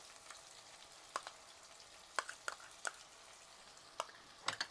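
Turmeric, chilli, cumin and coriander powder with whipped curd are stirred and fried in a pan, giving a faint steady sizzle broken by several sharp scraping clicks of the spoon against the pan.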